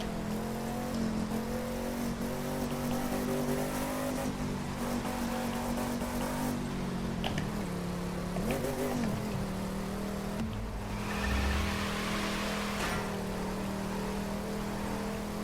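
A Ford car's engine drones steadily while driving in the racing game The Crew 2, with rising and falling revs and a few shifts over a constant whir, and no voices.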